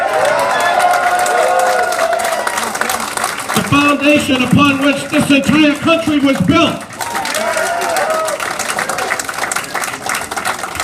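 A crowd at a politician's campaign speech in New Hampshire cheers and applauds loudly for a few seconds midway, breaking over and then fading under his continuing amplified speech.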